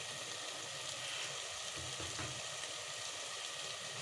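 Turmeric and red chili masala sizzles steadily in a pan while being cooked for masoor dal, a continuous close frying hiss with faint stirring and no talking.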